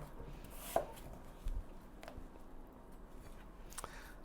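A knife chopping apples strikes a cutting board in a few scattered, sharp chops, with quiet pauses between them.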